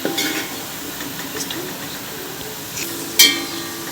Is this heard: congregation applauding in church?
no